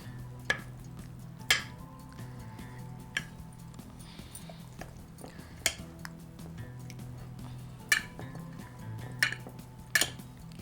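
Chicken being mixed by hand with salt and vinegar in a bowl, giving soft steady stirring and squelching with sharp clinks against the bowl every second or two, close and fairly quiet.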